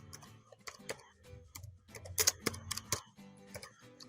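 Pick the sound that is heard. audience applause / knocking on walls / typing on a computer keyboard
typing on a computer keyboard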